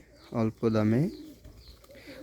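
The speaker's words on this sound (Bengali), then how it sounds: "দেখুন কি সুন্দরভাবে ডাকে কবুতর জোড়া" A pair of silver beji pigeons coos in two clear, close, throaty bursts, followed by quieter, softer cooing at a lower level.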